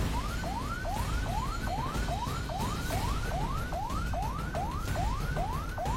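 An ambulance siren wails in a rapid repeating rising sweep, about two cycles per second, loud and steady over a constant rumble of road noise with no voices.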